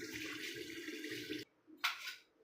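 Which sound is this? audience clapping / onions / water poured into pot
water poured into pot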